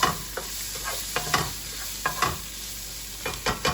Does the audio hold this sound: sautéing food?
yes